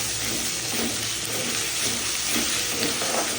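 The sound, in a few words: ginger garlic paste sautéing in a pan for mutton gravy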